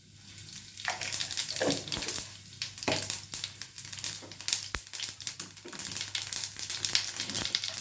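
Cumin seeds sizzling in a little hot oil, a crackling, spitting fry with bursts of popping and hissing close by that grows busier and louder toward the end, with no talk.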